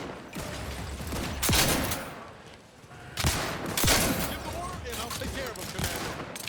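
Bursts of gunfire in Outer Worlds 2, with dense volleys of shots in two heavy clusters of rapid fire, set against a steady game background with talk in the mix.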